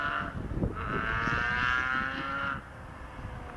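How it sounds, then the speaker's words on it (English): Historic touring racing car engine running, heard from inside the car during an HSCC historic touring race, a steady droning engine note that rises and holds, then drops away after a couple of seconds. "I just keep quiet so you can listen to the engine, because that is an awesome engine in that."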